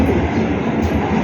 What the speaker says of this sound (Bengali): ও ট্রেন যাচ্ছে ট্রেন যাচ্ছে ট্রেন